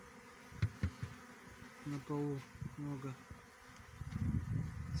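Honeybees buzz close by during a late-winter cleansing flight outside the hive, with steady droning and a few louder passes. Someone talks briefly over the sound.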